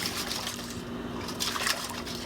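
Water pours into a bowl to make a brine for chicken, a steady close splashing gush with a few brighter surges of liquid, heard alone without voices.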